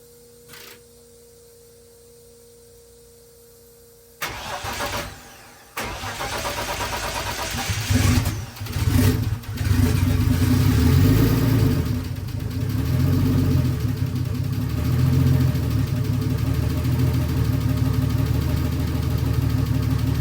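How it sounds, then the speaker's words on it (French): Infiniti G35 with a swapped BMW M54B25 turbo engine cold-starting after a quiet lead-in, catching with a few bursts and then settling into a steady, loud, close idle. "Et actuellement le moteur roule déjà plutôt bien."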